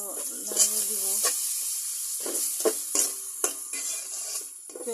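Oil sizzles steadily in a pan of onion and garlic for vegetable khichuri, with a constant hiss broken by sharper bursts and clinks as the pieces are stirred, close and fairly loud, with a voice briefly audible.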